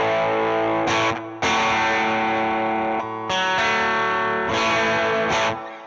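A Fender American Vintage II Telecaster Deluxe plays thick, heavy distorted chords through the bridge pickup, each ringing out then cut short with brief gaps between them. No voices.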